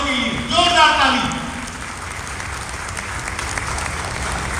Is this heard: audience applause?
yes